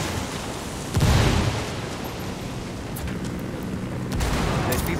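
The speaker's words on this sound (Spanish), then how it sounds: "Granada, ahí les va." Grenade blast in the tactical shooter Ghost Recon Wildlands: a loud low boom bursts out near the one-second mark over steady gunfire-like background noise, followed later by another swell of rumbling combat noise.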